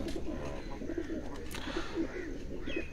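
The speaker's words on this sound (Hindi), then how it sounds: "एक और कबूतर है वो आपको दिखा रहे हैं।" Pigeons coo steadily from a house rooftop loft, repeated soft throaty calls in a continuous rhythm, close and moderately loud over low background rumble.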